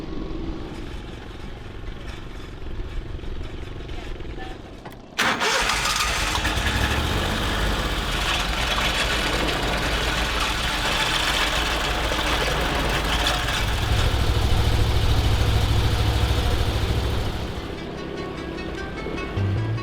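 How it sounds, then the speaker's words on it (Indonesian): A river ferry engine on the Mahakam River in Borneo rumbles into life partway through and then runs loudly and steadily, its low throbbing growing deeper and heavier toward the end. "Kapal feri menyusuri Sungai Mahakam dan membelah masuk ke anak sungai menuju Desa Pela."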